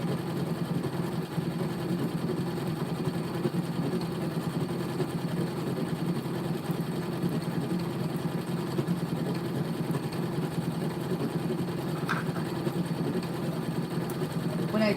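An embroidery sewing machine stitches thread with a fast, even mechanical buzz and steady vibration, close and continuous throughout.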